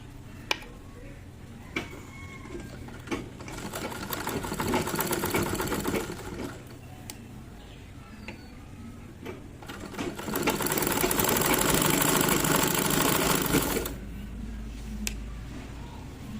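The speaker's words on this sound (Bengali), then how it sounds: "হাতের দিক থেকে মেশিন চালিয়ে নিচের দিকে আসতে হবে।" An ordinary household sewing machine stitches the seams of a square-neck nightie in two long runs separated by handling clicks and ticks, close by, with low background sounds and no clear talk.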